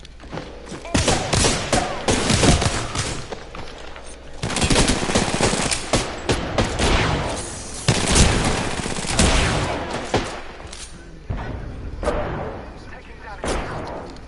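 Rapid automatic gunfire and bursts of shots ring out in the video game Apex Legends, loud and close in repeated volleys with brief pauses, and game voice callouts sound in between.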